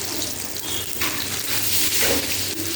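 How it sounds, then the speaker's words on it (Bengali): Nigella seeds and green chillies sizzling in hot oil, a steady close hiss and crackle of tempering spices that runs without break. "কাঁচা লঙ্কার মধ্যে দিয়ে দিলাম একটু কালো জিরে ফোড়নে"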